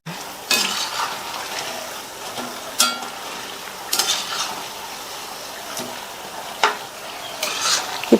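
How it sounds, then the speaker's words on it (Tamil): Snacks frying in hot oil while being stirred and turned until golden, a steady close sizzle broken by a handful of sharp clinks and scrapes of a utensil against the pan. "நல்லா இந்த மாதிரி பெரட்டி பெரட்டி போட்டு பொன்னிறமா வந்ததுக்கு அப்புறமா எடுத்துடலாம்."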